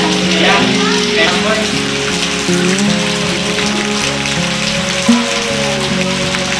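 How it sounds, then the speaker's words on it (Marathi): Heavy rain pours down steadily during a traditional Gauri festival ritual in a Konkan village near Lanja, Ratnagiri, a dense continuous hiss with a constant low rumble beneath it, close and loud throughout. "एवढा जोरात पाऊस आहे बघा आज"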